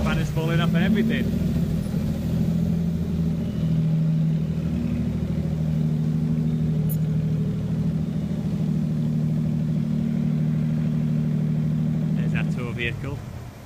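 A Jaguar van engine running steadily while driving, a loud, continuous low drone that holds for the whole stretch and fades slightly at the end, with voices briefly over it.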